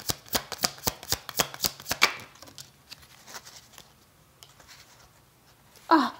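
A deck of tarot cards is shuffled to draw a single card: a quick run of crisp riffling clicks, then softer scattered card handling and a final brief rustle.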